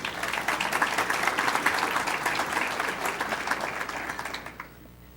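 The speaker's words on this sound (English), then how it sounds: "So give yourselves a round of applause for that." Sustained round of applause from a large audience at a university event, steady dense clapping throughout that tapers off at the end, with no talking over it.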